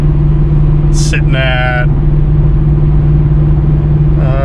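Pontiac G8 GT with its old exhaust setup and a 327 Camaro rear end cruising at 80 mph, a loud steady low exhaust drone filling the cabin while someone talks briefly over it.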